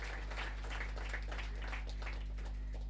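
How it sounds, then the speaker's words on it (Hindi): Applause from an audience at a U.P. Police passing out parade in Lucknow, a steady far-off patter of clapping spread across the whole stretch beneath a low hum. "जोरदार तालियां करतल ध्वनि से इनका अभिनंदन हो"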